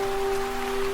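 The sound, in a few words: rain falling in video game Love and Deepspace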